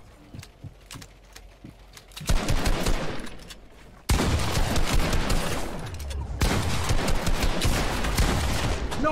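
Gunfire from the video game Fortnite starts as sparse single shots, then breaks into dense, loud bursts of rapid fire that continue in waves to the end, with faint keyboard clicks early on.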